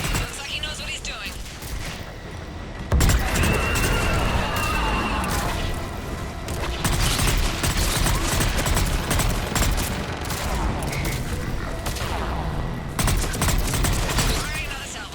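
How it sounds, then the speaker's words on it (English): Missile salvos launching in Mass Effect 3 Legendary Edition: dense, continuous volleys of whooshing launches and blasts that keep surging over fifteen seconds, with a burst near three seconds, loud and close, with game voices talking under the barrage. "Missiles are hot. Missiles away."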